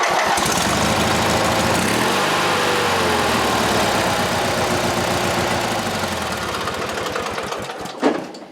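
A Briggs opposed-twin engine that had been flooded runs loud and close at a fast, even chugging idle, then shuts down with a final thump at the end.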